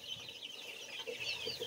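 Chickens clucking faintly in the background, a few soft clucks near the end over a high, busy background of chirping birds or chicks.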